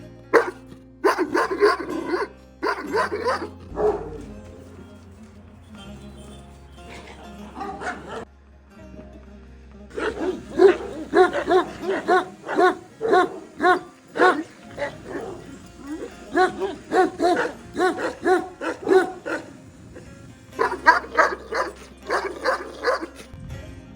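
Several Kangal dogs on a farm bark repeatedly in bursts across the clip, loud and close, with brief pauses between volleys and some yips mixed in.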